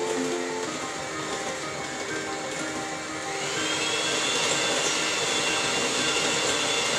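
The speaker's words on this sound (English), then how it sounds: "We want to mix it evenly to make it very, very smooth." An electric mixer whirs continuously while beating buttercream for an Argentine ricotta pie, a loud, steady motor drone that rises slightly in intensity partway through.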